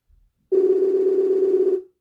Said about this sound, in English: Yeah, see, it's ringing.